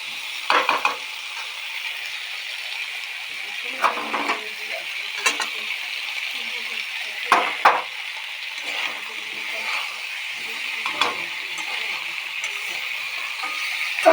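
Spices fry in a pan for aloo dum, giving a steady, close sizzle broken by repeated scraping and clinking strokes of a spoon stirring against the metal.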